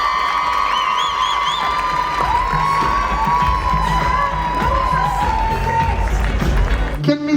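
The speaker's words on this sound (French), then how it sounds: "On peut l'applaudir très fort," Audience at a Miss Île-de-France beauty pageant cheers and applauds a contestant, a steady dense crowd roar with shouts and whistles running the full length, loud and close, ending in a brief clatter.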